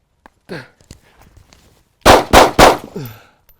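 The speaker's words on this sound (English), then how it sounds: "Now let's try drawing and firing." A handgun drawn from a belly band holster fires three loud, sharp shots in quick succession, close by, after some faint rustling and handling noises.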